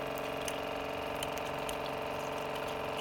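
A water pick sprays a steady jet during a dental cleaning of an animal's gums with a small rubber tip at a low flow setting, a continuous close buzzing pump hum with light hissing spray and faint clicks.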